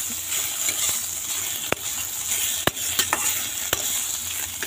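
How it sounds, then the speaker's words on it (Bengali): Paneer fries in a pan with red chilli, giving a steady, close sizzling hiss punctuated by a few sharp clicks from stirring, with no one talking. "চলো আমি ভেজে নিই ভালো করে"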